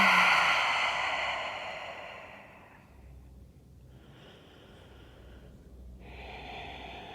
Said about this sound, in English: Take a big breath in, breath out.